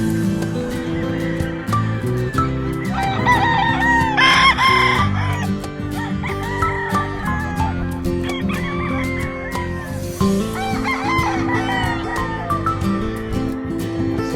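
A yellow-legged roundhead stag, a young rooster of Gary Gilliam bloodline, crows loudly and close by on a farm in the morning, with several calls and clucks rising over a busy background of other fowl.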